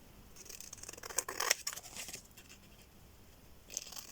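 Scissors cut by hand through material for a sewing craft project, giving faint, close snips and soft crisp rustling in a few short bursts, with no talk.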